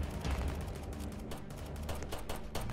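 Rapid, steady gunfire crackles through a zombie fight in the Roblox game All of Us Are Dead, set in a school overrun by zombies, with dense shots packed together and no voices over them.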